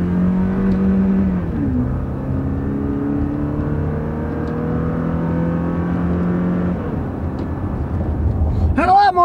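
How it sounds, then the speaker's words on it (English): A car with a manual gearbox pulls away from a stop in first gear, its engine revving up, dropping in pitch at each manual shift, then climbing again, loud and close throughout. "We'll put it in first gear and we'll take off. We'll shift it manually."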